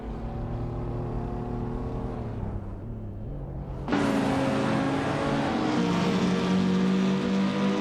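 Race cars running side by side in a racing game, a steady loud engine drone that jumps to a higher, brighter roar midway as another engine note joins in close by.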